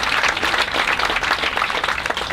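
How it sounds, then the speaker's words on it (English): Audience applause at a university white coat ceremony for a physician assistant class, a dense steady wash of clapping held at an even, fairly loud level throughout, with no talk over it. "You can clap for that, okay?"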